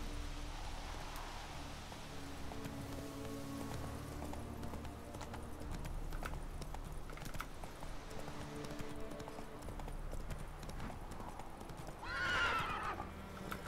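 Horse hooves clip-clop steadily in The Witcher 3 over a busy game soundscape, with a horse whinnying loudly near the end.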